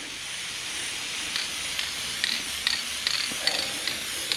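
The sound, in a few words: spray painting a race car black in a garage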